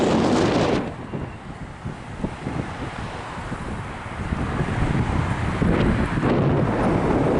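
Gusty wind at the St Kilda beachside in Melbourne buffets the microphone with a low, roaring rumble that eases briefly and then builds again, steady and close.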